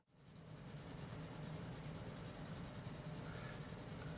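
Close, continuous scratchy rubbing of a General's Test Scoring 580 pencil laying down graphite on drawing paper, starting abruptly and holding an even, steady texture throughout.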